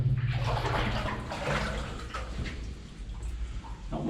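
Steady rushing water from a river flowing beside old mine workings where a quartz vein crosses, a continuous broadband wash that stays loud and close throughout.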